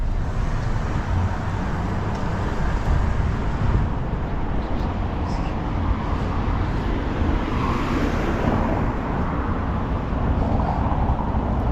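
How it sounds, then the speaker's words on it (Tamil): A car rolls past on a quiet Sunday-morning street in Prague, a steady broadband road hum that swells slightly and fades, with no voices over it. "இங்கே உங்களுக்கு முன்னாடி ஒரு கார் போகுது பார்த்தீங்களா"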